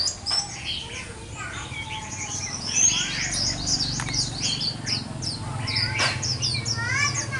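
A white-eye bird sings a run of quick, bright chirps and whistled trills, mimicking a skylark's song, fairly close over a low steady background hum with some faint talk.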